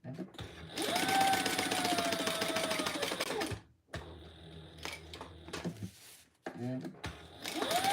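A sewing machine runs around the bottom of a fabric box in long, loud, close bursts separated by short pauses, with a few lighter clicks in between.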